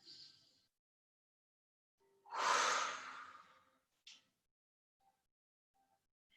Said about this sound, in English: exhale a little more forcefully than you would, but with your mouth open